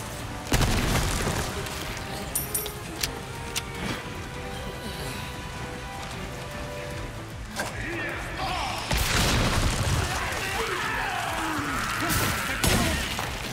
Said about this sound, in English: throw a flash grenade